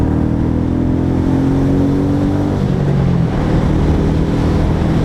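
Royal Enfield Meteor motorcycle riding on the road, a dense continuous engine drone with wind rush and a rising then falling rev note, no talking.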